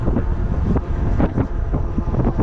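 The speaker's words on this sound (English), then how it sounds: "That breeze sure feels good at 20 mile an hour or whatever we're doing." Wind buffets the microphone of an e-bike cruising at about 20 mph on pedal assist level 5. The low, rumbling gusts are loud and constant, with rapid fluttering pulses.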